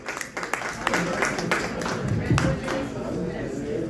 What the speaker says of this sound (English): Thank you for that lukewarm round of applause